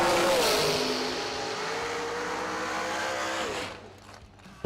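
A dragster at a drag strip during a summer racing event roars loud and steady, then drops away sharply near the end and leaves faint background noise.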